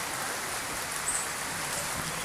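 Rain from the season's first monsoon shower falls steadily, a soft even patter and hiss of drops at moderate distance, with no talking.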